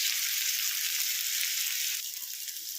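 Steady, dense sizzling of drumsticks frying in a pan, constant and fairly loud, with a slight drop in intensity near the end.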